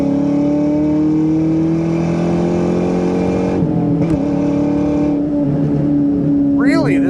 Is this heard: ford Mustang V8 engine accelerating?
yes